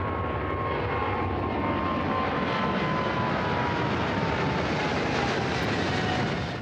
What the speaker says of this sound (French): l'un des rares avions à décoller aujourd'hui d'Orly.